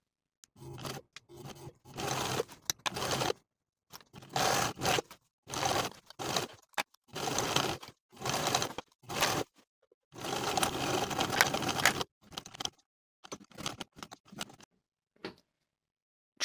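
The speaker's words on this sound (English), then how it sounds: "Sew the waistband in place with a 5/8 inch seam allowance all the way around." A sewing machine sews a trouser waistband in short repeated bursts of rapid whirring stitching, separated by brief silences, close and clear with no voices.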